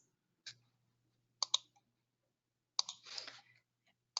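Computer mouse clicks while saving records in catch basin mapping software: a handful of sharp, close, isolated clicks, some in quick pairs, in near silence with a faint hum.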